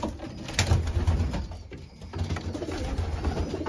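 Racing pigeons coo softly in a breeding loft, low throaty murmurs repeating close by and fairly quiet, with faint shuffling and rustling and no talk.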